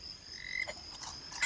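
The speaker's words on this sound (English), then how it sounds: "It was going croak, croak." A frog croaks by a river at a bike campsite, a short run of close, raspy croaks on its own with no talk.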